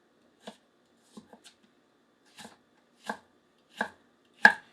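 A thick Forge To Table nakiri knife chops down onto a cutting board in six separate strikes, sparse at first and then steadier, each sharp thunk growing louder toward the end, with quiet gaps between.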